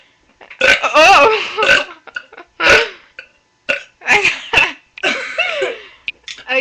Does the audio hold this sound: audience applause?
no